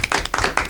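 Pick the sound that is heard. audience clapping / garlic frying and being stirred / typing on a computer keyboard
audience clapping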